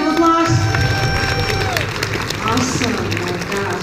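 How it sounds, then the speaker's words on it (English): Audience applause and cheering at a concert honoring a priest in a church setting, a broad wash of clapping from a crowd with a sustained musical tone fading out early and some crowd voices mixed in. "Can we give Father Nilo another big round of applause?"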